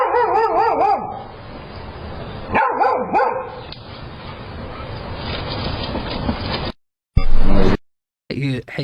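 A dog barks and yelps up close in several bursts with whining, howl-like rises, and a voice sounds in the background.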